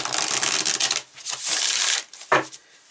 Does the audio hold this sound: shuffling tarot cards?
yes